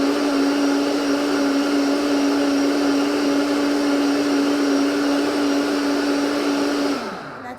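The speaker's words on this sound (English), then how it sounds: "So high-speed blender." A high-speed blender whirs loudly and steadily as it blends the base of a cacao tonic, then spins down near the end with no talking.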